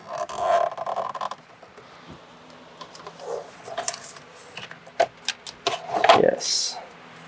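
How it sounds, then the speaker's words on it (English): Electrical tape peeled off the back of a Subaru WRX gauge bezel gives short rasping, sticky rips and rubbing scrapes in bursts, loudest near the end, with some brief talk in between. "go ahead and just pull the damn tape off here"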